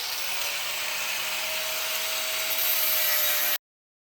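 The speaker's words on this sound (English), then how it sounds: "So grinder on." An angle grinder polishes old 9J wheels with a steady, loud broadband grinding whir and a faint high whine, running continuously until it cuts off abruptly near the end.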